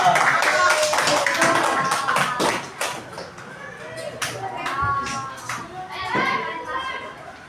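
Children clapping for a girl named Raisa in a school classroom, a burst of brisk, uneven hand claps mixed with lively kids' chatter and voices throughout.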